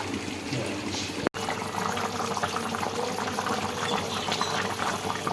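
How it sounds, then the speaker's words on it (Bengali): Water and potatoes go into spiced meat that has been fully browned in a pan, giving a continuous near sizzle and bubbling splash with one abrupt break partway through. "এর মধ্যে পরিমাণ মতো জল আর আলু দিয়ে দেবো"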